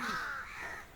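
Crows give harsh, drawn-out caws in a quick, loud burst, then a softer overlapping call trails off, outdoors with no voices.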